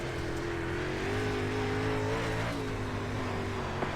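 A race car circles a track at Cedar Lake with a continuous droning engine note that holds steady and shifts slightly in pitch, heard from a moderate distance with no talk.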